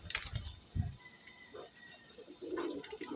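Pigeon cooing from a fancier's flock, a few soft low coos near the mic, with brief rustling and clicks around them and no talk.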